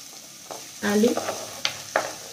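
Egg bhurji with onion and potato stirred in a pan, a couple of scraping spatula strokes and clinks over a low sizzle, close and fairly quiet.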